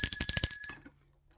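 A bright metallic bell rings in a rapid series of about six quick strikes, leaving a sustained ringing tone that dies away into near silence, with no voices.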